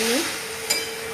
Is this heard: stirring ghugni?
yes